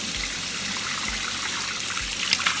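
Tap water runs steadily over a makeup brush as it is rinsed at a sink, a close, continuous hiss of flowing water with a few faint splashes and no talking.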